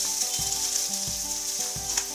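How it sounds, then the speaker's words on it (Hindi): Peanuts and chopped onions for lemon rice frying in a pan over a low flame, a steady close sizzle with a few soft scrapes of stirring and no talk. "और इसे हम लो फ्लेम पे ही भूनेंगे। हम इसे और 1 मिनट तक लो फ्लेम पे भून लेते हैं।"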